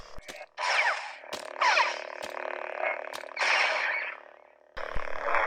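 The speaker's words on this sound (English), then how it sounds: "Cool, has a few different clash effects." A Galaxy's Edge Legacy lightsaber toy fires several different clash effects, each a harsh crackling buzz burst lasting about a second, separated by short clicks and gaps, loud and close with no talking.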